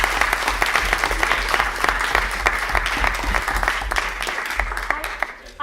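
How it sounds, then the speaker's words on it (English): Steady, dense clapping from a debate audience greets the lecturers' team at the close of an economics debate, loud and continuous throughout before thinning out in the last moment. "Let's also give a round of applause for the lecturers team"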